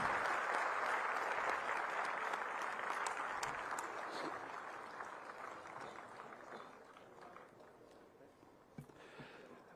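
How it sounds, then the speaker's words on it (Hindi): A crowd at a swearing-in ceremony for newly elected mayors in Haryana, with the chief minister present, claps at a distance, the applause starting full and slowly thinning out over ten seconds before a few final claps. "तो अब आपकी तालियों की आवाज, उसकी गूंज आनी चाहिए देवियों सज्जनों।"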